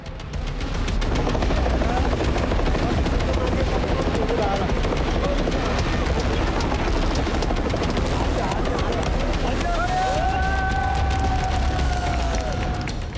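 An army rescue helicopter flies over flood debris in Nepal. Its rotor thumps loudly and steadily throughout, with a faint crowd and some shouting underneath.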